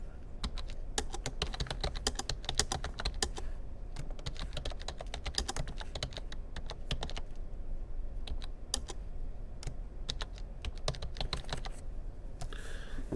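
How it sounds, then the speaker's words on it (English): Keys on a computer keyboard clatter as a title is typed in Adobe Premiere Pro, quick close clicks coming in uneven bursts with brief pauses, steady throughout and without speech. "And I can type in whatever I want."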